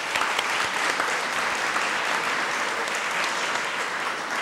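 Sustained applause from an audience at a college day celebration, dense steady clapping filling the room throughout at an even, fairly loud level.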